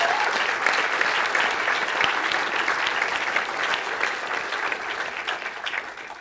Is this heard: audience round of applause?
yes